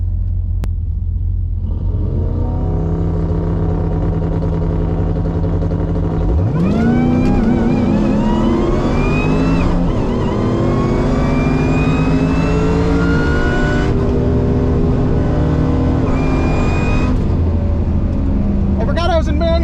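Loud and near, a Cadillac CTS-V wagon's engine rumbles at idle, then revs sharply and climbs through sustained pulls on a shakedown pass. The roar stays heavy and continuous to the end.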